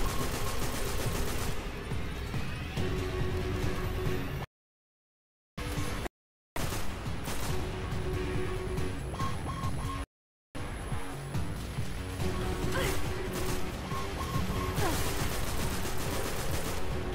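Gunfire in the video game Destiny: dense, continuous bursts of rapid shots across the whole stretch, broken by a few short dropouts of silence, with no voice heard.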